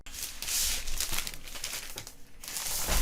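Close crinkling and rustling as the seal is torn off a Huion KD200 Bluetooth graphics tablet box and it is opened, a sharp tearing pull, continuous papery and plastic noise throughout, no voices.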